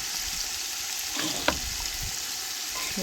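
Finely sliced onions, about ten to twelve with a spoon of salt, sauté in a pan for mutton biryani, giving a steady moderate sizzle with a single brief stirring clink partway through.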